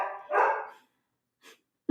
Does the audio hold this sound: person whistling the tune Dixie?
no